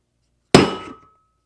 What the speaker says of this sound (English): we're going to give it a tap on the floor. Nice firm tap